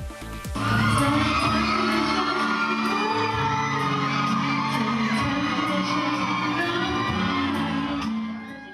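A dense crowd of fans screams and shrieks continuously at high pitch at a Thai film premiere, loud and sustained for several seconds, with music faintly buried underneath.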